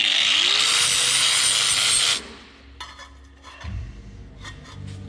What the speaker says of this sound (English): Grinding a hole in here.